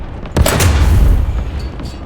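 A single heavy boom from a Panzer IV G tank cannon firing in a video game, a sharp loud blast followed by a rumbling tail that fades over about two seconds.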